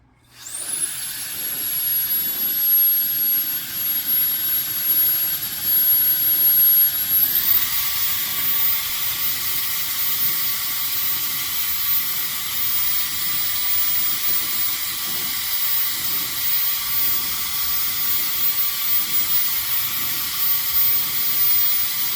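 A Roedix cordless electric air duster, a 360000 RPM high-speed blower, runs continuously as a loud, steady jet-like whoosh with a high whine that steps up in pitch partway through as the speed changes.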